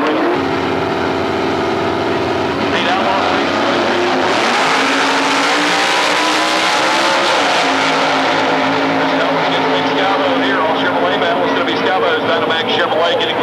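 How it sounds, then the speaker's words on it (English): A Dynamax Chevrolet drag racing car at Atlanta Dragway in 1999, a loud sustained engine roar that builds and holds through the run, with a commentator talking over it. "Scavo's Dynamax Chevrolet getting the win light, a fine 790 for Scavo, speed of 175"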